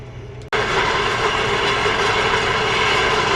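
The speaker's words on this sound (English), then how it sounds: "so we can let the tractor do the work" A tractor pulling a 12.5-metre roller across a field, its steady, loud engine and cab drone filling the clip after a brief cut near the start, with no talk.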